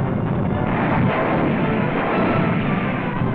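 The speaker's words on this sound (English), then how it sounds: "Jerry mortar fire lands close to our forward OPIPs." German mortar fire landing near forward observation posts on the Italian front in 1944, heard as a continuous, loud, muffled roar of blasts and rumble on a narrow-band archival newsreel soundtrack.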